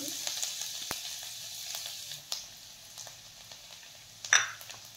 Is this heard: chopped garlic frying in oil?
yes